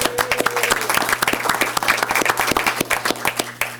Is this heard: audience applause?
yes